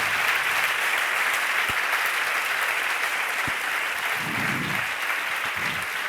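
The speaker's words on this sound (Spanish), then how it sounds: "le damos un fuerte aplauso a Fernando Aramburu" Audience applause for an author in a theatre fills the whole stretch as a steady, dense wash of clapping at an even level, with no voices rising above it.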